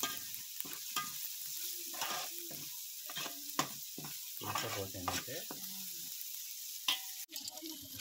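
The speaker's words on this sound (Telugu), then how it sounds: "ఆ పేస్ట్ అనేది వేసేసి మళ్ళీ ఒకసారి మొత్తం కలిపెట్టుకుని" Onion and tomato paste is stirred into a fish curry in a frying pan, with a steady close sizzle under repeated scraping stirs of a spoon against the pan, with no talk.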